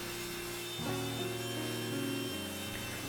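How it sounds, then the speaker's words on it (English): Woodworking machines jointing and planing walnut boards give a quiet, steady mechanical drone that shifts pitch a couple of times as the cut changes, heard from a distance with no talking. "The next part of the process is breaking down the material, jointing, planing, and getting these boards set up for glue."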